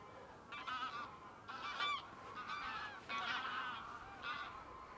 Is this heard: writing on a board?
no